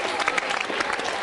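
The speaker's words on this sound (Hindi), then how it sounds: "प्रेरणा टहलियानी के लिए जोरदार तालियां बजाई" Students and audience clap for a contestant at a school quiz show, a brief burst of dense applause at moderate level.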